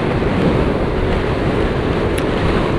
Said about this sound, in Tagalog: Ang lakas ng hangin kasi!